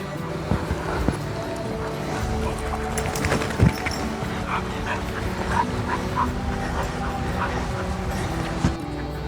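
Dogs bark and whimper near a stream on a farm track in the Cotswolds, giving sharp yips and bow-wows at close range over running water and outdoor noise.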